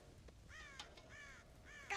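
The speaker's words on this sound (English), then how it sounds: "God damn crows!" Crows cawing in the video game Red Dead Redemption, with three drawn-out, nasal caws in quick succession, faint and somewhat distant against a quiet ambient background.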